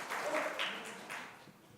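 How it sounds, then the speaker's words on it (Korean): A church congregation claps briefly after a daycare report at a church officers' meeting. The applause is soft and somewhat distant, swelling and fading within a couple of seconds, with a voice faintly audible alongside. "우리 어린이집 관련 보고 우리 박수로 받는 걸로 하겠습니다."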